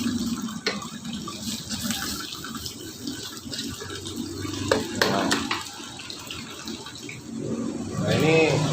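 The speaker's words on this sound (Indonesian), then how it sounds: "ini kalau udah seperti ini kita tinggal tambahin airnya aja" Water poured into a pan while cooking Indonesian sambal tumpang made with fermented tempeh, a continuous close splashing and gurgling that runs steadily throughout.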